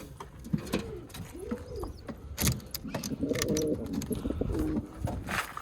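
Pigeons coo in a loft holding nesting pairs with eggs and chicks, several soft rolling coos repeating close by, with a few clicks and rustles and a low background hum.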